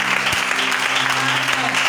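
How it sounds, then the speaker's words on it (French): A church congregation applauds during a seminar service, steady and fairly loud throughout, with a low musical hum or organ tone running underneath. "Acclame Jésus"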